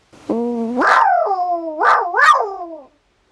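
A human voice imitates a dog: one drawn-out whining yelp, then two short barks in quick succession, close and fairly loud.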